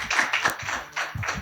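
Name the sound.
audience applause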